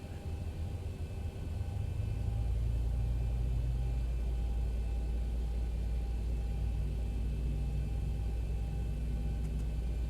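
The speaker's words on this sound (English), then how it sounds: "I'll go ahead and start the engine 1" Engine one of an airliner spools up at startup in the X-Plane 12 flight simulator, a deep rising rumble and whine that climbs after a couple of seconds and then holds steady and loud.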